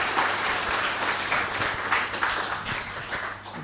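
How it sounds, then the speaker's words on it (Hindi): A hall audience at a Brahma Kumaris talk breaks into steady, sustained applause, many hands clapping together at fairly close range with no voices over it. "तो सब ताली बजाओ हमारे कोलाबा सेंटर के लिए"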